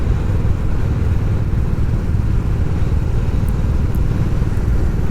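Royal Enfield Classic 350 motorcycle riding along the main road through a quiet village, its single-cylinder engine thumping steadily and loud throughout, with wind rumble and no talk.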